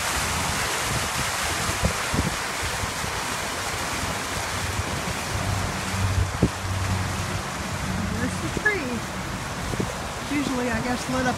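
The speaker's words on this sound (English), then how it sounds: "There's the fountain." The outdoor fountain at the Turkey Creek shopping center gushes in a steady broadband wash of falling water, near and fairly loud, with voices and light crowd noise mixed in.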